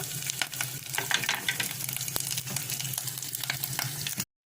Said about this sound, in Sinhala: මම උළුහල් දානවා